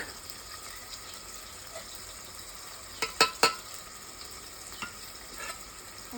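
Peas and chillies frying in oil in a pan for baingan bharta, a quiet continuous sizzle broken by a few sharp clicks of a spoon stirring against the pan.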